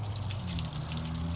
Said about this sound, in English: Water pump's pumping, cranking easy.